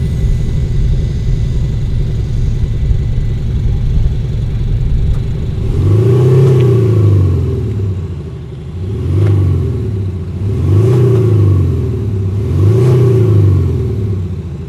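Active exhaust sound of a KGM Actyon piped through the cabin speakers, a deep synthesized engine note that starts after a quiet hum and swells in four repeated rising-and-falling revving sweeps, close and loud, no talking.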